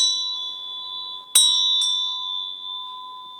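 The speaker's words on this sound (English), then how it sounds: "the sounds of bells used before prayer or chanting" A bell rung before prayer or chanting: one clear struck tone sustains, then a second sharp strike around the middle and a lighter third, each ringing out with long, slowly fading resonance.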